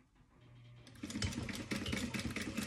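A sewing machine stitches along the edge of fabric with a 1/4 inch seam allowance, starting after a brief low hum and then running steadily with a close, rapid, rhythmic mechanical chatter.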